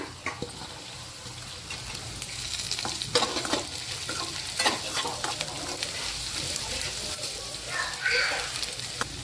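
Finely chopped onions fry until brown for dry chole, a loud, steady sizzle broken by repeated scraping strokes of a spoon stirring in the pan.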